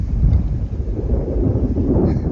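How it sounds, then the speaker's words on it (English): Gale-force wind blowing over a sailboat anchored in far north Queensland, a loud low roar buffeting the microphone with gusty surges, steady throughout and with no voices. "It's blowing a gale out here"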